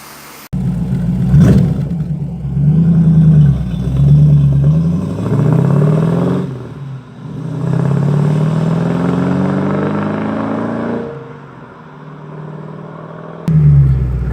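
An MGB GT with a Rover V8 engine, Edelbrock carburettor and RPi ignition on a road test, its V8 rising and falling through repeated loud gear pulls, then easing to a lower drone before revving again.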